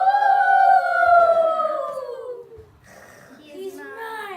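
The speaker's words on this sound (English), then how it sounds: "The wolves howl and speak the language of the free people." Wolves in a story setting howl in long, sliding tones, with two drawn-out calls fading over a couple of seconds before a shorter rising howl.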